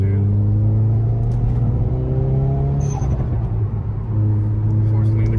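A cold car engine revs with a steady low idle drone and a couple of brief throttle rises, close and loud, with people talking over it.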